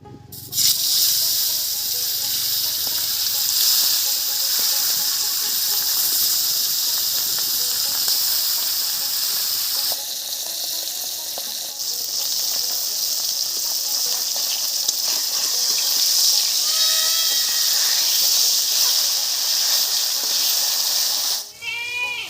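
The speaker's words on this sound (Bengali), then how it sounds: "এবারে ভেজে নিচ্ছি" Pabda fish rubbed with turmeric and salt sizzle and hiss loudly in hot oil in a pan, a continuous close frying crackle with sharper spits and bursts through the middle.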